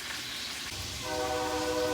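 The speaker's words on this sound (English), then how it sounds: "Another train." A train passing outside a home kitchen, a steady rumbling roar with a horn sounding partway through, continuous and fairly loud with no talking.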